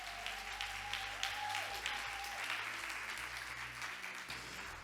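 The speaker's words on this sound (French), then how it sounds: "Que ceux qui le croient applaudissent le Seigneur qui va faire de grandes choses." A church congregation applauds during a French worship celebration, a steady wash of clapping that carries through the whole stretch, with a sustained organ-like tone lingering beneath it early on.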